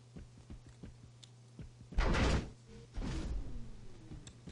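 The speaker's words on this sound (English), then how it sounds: "So you can actually hear the playback of the door." A door opening sound effect plays back in a game engine scene: a broad scraping rumble swells, fades, then a second heavier sliding thud follows as it reaches its open position, over a faint steady hum.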